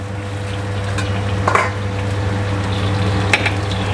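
Chicken karaage fries in hot oil with a steady, dense sizzle close by, broken by a few soft clinks and stirring sounds over a constant low hum.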